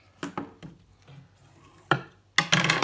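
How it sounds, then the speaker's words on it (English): Loose strands of tape-like material on a mini album cover being snipped off: a few close, sharp cutting clicks and taps, scattered unevenly, with a louder cluster of snips at the end. "Just got a couple of strands there, just cut them off."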